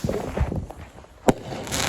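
A backyard firework rocket gives one sharp, loud pop after a brief lull, set against faint outdoor ambience.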